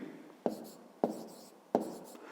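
A pen or pencil writes numbers by hand on paper in three quick strokes, each a sharp scratchy tap followed by a fading scrape, close and quiet.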